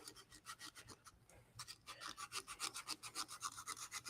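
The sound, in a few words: hand sanding inside of a turned wooden cup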